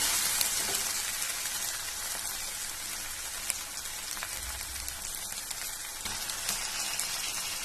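Chicken pieces frying in a pan with half-sautéed onions for Chinthamani chicken: a steady, hissing sizzle with fine crackles and a soft stir partway through, close and without talking.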